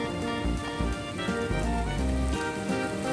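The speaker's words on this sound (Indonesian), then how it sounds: "Wah, hujan lebat" Heavy rain pours down steadily on a dam while people shelter under trees to fish, a dense, loud hiss of drops beating on surfaces with no voices.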